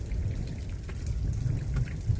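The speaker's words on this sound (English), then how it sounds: "We got hail there. We've got hail here." Hail and rain falling during a June hailstorm over a farm, a dense steady outdoor patter with scattered sharper ticks and a low rumbling background.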